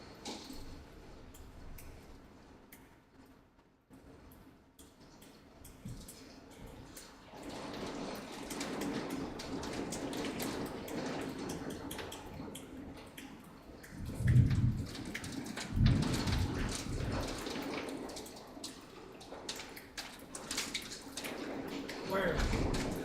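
Rain pours steadily outside and drips through a leaking door frame, a dense hiss with louder rumbling gusts midway, while people talk over it.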